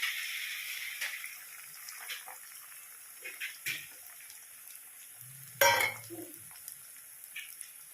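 Eggs poured into fried onions in a pan for egg bhurji, a soft sizzle under quiet kitchen clatter, with one sharper splash and hiss partway through, fairly faint and close.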